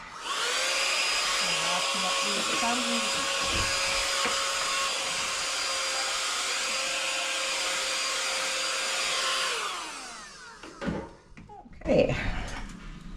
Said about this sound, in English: I'll get my little vacuum